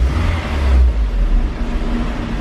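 A Honda Integra engine warming up after an idle relearn, a low rumbling idle that swells briefly as the revs rise and fall, close and steady with no talking.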